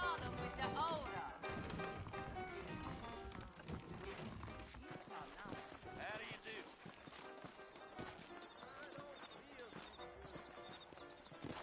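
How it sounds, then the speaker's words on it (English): Saddled horses in a Western video game: a horse neighs and whinnies while hooves clop and shuffle, mixed with game sounds, under conversation between characters. "I got the horses saddled up and ready out front."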